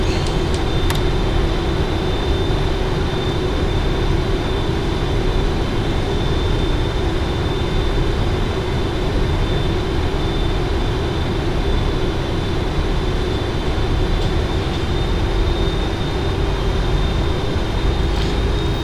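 Boeing 777 engines in the PMDG flight simulator drone steadily at loud, constant power throughout, a continuous cockpit roar with no pauses during a touch-and-go circuit.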